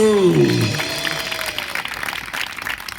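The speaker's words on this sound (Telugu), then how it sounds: "గట్టిగా చప్పట్లు." Loud applause from a church congregation gathered for a Christian sermon, a dense burst of clapping that begins strongly and thins out over a few seconds.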